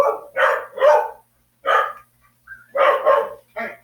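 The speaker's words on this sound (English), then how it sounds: "Sorry, my dogs are going crazy." Several dogs bark in quick, loud bursts, close to the microphone. The barks come in clusters with short pauses, and a brief whine or yip sounds between them.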